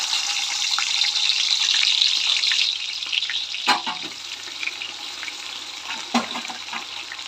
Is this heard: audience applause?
no